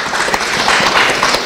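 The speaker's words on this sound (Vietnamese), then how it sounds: "Hãy vỗ tay cho người thanh niên trai trẻ này." A church congregation at a sermon gives a brief, dense burst of hand clapping, loud and close throughout.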